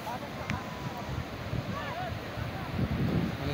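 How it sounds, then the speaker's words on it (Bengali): Surf rolls in at Patharini beach in Cox's Bazar, a rocky seashore, as a steady broadband roar of breaking waves mixed with wind buffeting the microphone, with faint voices in the background throughout. "সমুদ্র গর্জন শুনতে পাচ্ছেন আপনারা"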